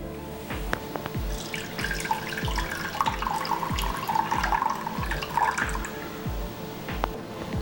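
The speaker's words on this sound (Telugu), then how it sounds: "వీటిని ఇలా రఫ్ చేస్తూ 2-3 సార్లు శుభ్రంగా మనం కడిగేసుకుందాం" Soaked black-eyed peas are rubbed and rinsed in water, with steady splashing and sloshing punctuated by regular drips and plops, close and without speech.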